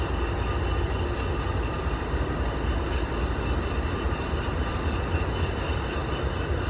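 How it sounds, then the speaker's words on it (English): A freight train with a caboose passes along Marquette's Upper Harbor, a steady broadband rumble and roar of rolling wagons that holds evenly throughout, moderately distant, with no talk over it. "we have our little ghost train over here"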